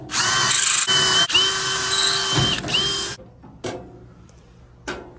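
A power drill whirs loudly in several steady bursts with brief pitch shifts while removing a Kennedy tool box ball bearing slide, then stops, followed by a few faint clicks and taps.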